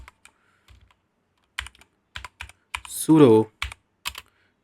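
Keys clatter in short, irregular bursts as a command is typed on a computer keyboard at a Kali Linux terminal, close and crisp, with a brief spoken voice in the middle.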